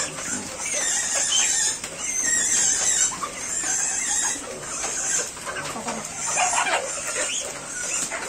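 Black Paraoakan chickens cluck and call in the rain, their busy, fairly close clucking continuing over a steady hiss of rainfall for several seconds with no talking.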